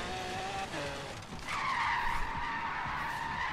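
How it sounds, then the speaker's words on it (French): Tires squeal steadily as a powerful car drifts in Forza Horizon 3, with a sustained high screech that briefly dips and then surges louder and holds, set over a constant engine roar. "c'est impossible de drifter avec des voitures aussi puissantes."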